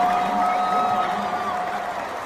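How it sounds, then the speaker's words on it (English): An enormous audience at a live show roars with cheers and applause as Dave Chappelle walks onto the stage, a dense, sustained wash of crowd noise with whistles threaded through it, steady and loud throughout. "just the amount of camaraderie, excitement in the crowd, I guess you can hear"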